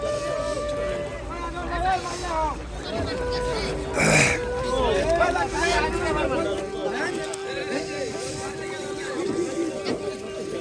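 A boat loaded with winter vegetables pulls in at a river landing by Narisha market, its steady engine drone running under loud nearby talk and crowd chatter.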